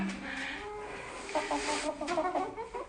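A rooster and a hen cluck and murmur nearby, a few soft calls rising toward the end over a quiet background.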